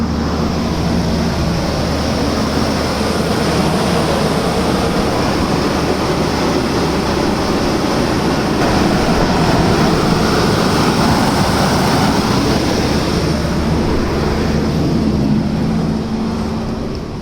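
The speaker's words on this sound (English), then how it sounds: "See how loud the fan is?" A 2016 Infiniti QX80 engine cooling fan with a faulty fan clutch roars loud and constant, a dense steady whooshing drone that barely wavers across the whole stretch, no voices.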